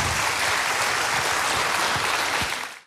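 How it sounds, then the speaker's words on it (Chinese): An audience gives warm, continuous applause to welcome a speaker, many hands clapping densely and loudly from start to finish before fading out at the end. "那接下来让我们用热烈的掌声邀请樊院长"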